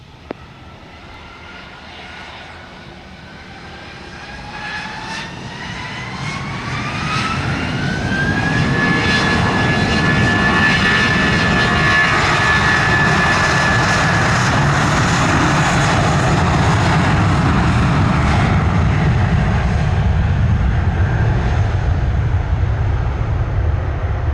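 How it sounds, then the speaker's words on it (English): A JetBlue jet airliner takes off from runway 25 at Montego Bay, Jamaica, its engines spooling up from a distant whine into a loud, sustained roar with a rising tone that holds steady for the rest of the run, no talk over it. "you are cleared for takeoff, runway 25, wind 220 degrees, 14 knots."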